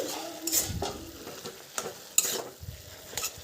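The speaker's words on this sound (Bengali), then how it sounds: "এবার কিছুক্ষণ পর চাপাটা খুলে আমি আবারও নেড়ে দিচ্ছি" Bathua greens are stirred in a cooking pan over heat, with repeated scraping strokes of a spatula and a soft sizzle underneath, close and fairly loud, with no voices.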